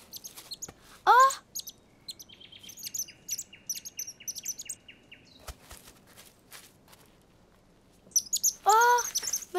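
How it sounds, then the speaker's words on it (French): A cartoon baby bird chirps in quick high bursts near the start and end, with a run of cheerful tweets in between and a few soft footsteps, all close and clear. "Oh, mais c'est un bébé oiseau."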